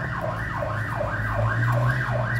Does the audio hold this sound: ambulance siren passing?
yes